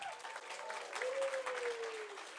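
Applause at a summit closing ceremony rises under a held electronic tone, a soft, steady patter of many hands clapping in a large hall.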